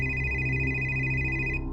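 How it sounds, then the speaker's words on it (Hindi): A telephone rings steadily with a bright electronic tone for an incoming call, loud and close, then cuts off just before the end. "ये डीएसपी मौर्य मुझे क्यों कॉल कर रहा है?"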